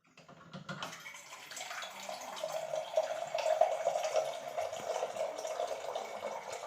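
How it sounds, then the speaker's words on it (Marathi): Water runs steadily from a household water purifier, a continuous hissing trickle that builds slightly and holds, with faint ticking in the background. "हा वॉटर प्युरिफायर आहे"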